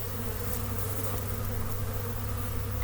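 Honeybees swarm around an opened beehive during the first inspection of the year, in a warm February spell, making a steady, dense, close buzzing hum that continues without a break and with no voices.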